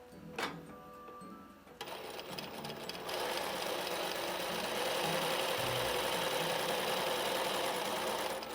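A sewing machine back stitches a Christmas stocking, starting after a few handling taps and then running in a steady, close mechanical whir that holds to the end.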